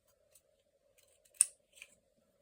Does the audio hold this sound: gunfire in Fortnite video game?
no